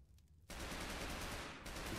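Rapid automatic gunfire from SWAT NPCs battling zombies in Garry's Mod bursts in after a quiet moment, a dense continuous volley of loud shots that holds steady to the end, with no voices.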